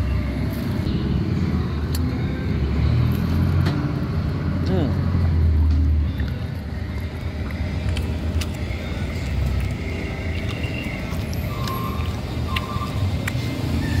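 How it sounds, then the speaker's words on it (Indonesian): Weekend traffic jam on a busy street in Makassar, with a steady roar of car engines and road noise throughout and passing vehicles close by. "kalau weekend di Jalan Monumen Emin Sayalan tuh pasti macet nih seperti ini"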